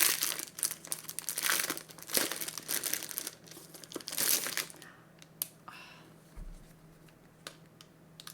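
Plastic packaging crinkling and rustling close up as it is unwrapped, loud dense crackles for several seconds, then sparser quieter crinkles and a few soft taps.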